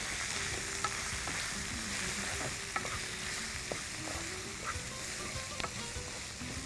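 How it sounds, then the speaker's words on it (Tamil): Coriander and turmeric powder are mixed into a sizzling pan, with a constant hiss of frying and scattered spoon scrapes and clicks, close up and without talk. "தனியாத்தூள், மஞ்சள்தூள் போட்டு நல்லா மிக்ஸ் பண்ணிக்கோங்க"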